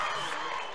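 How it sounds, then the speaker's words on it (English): Crowd at a high school wrestling match between the Rich Rebels and Bear Lake Bears cheering and applauding, a dense continuous roar of voices and clapping throughout a brief moment. "And the crowd's into it right now."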